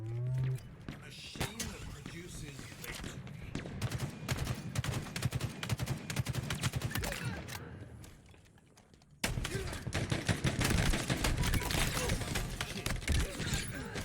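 Shotgun blasts and gunfire ring out in a Halo Infinite Big Team Battle match: repeated sharp bursts and crackling shots, with a lull near the middle, under a player talking throughout.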